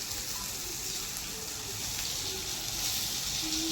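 Vegetables with tomato roast in a pan for a rustic Maharashtrian eggplant bharit, giving a steady, even hiss and gentle sizzle throughout with no talking.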